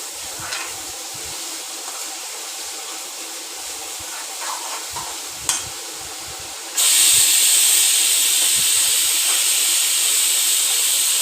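Steam hissing from a pressure cooker as its pressure is let off while beef roast is cooking, a steady hiss that jumps to a louder, harsher rush partway through and keeps going to the end, with no talking.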